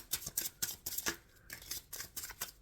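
Tarot cards being shuffled by hand: a close, steady run of crisp papery flicks and riffles in quick repeated bursts, with no talking.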